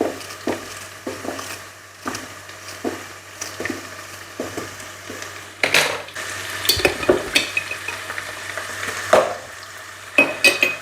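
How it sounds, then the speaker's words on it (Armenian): Onion frying in a pan with periodic stirring and scraping knocks against the pan, a steady sizzle underneath, close and moderately loud, no talk. "Սոխը տապակվում է համարյա"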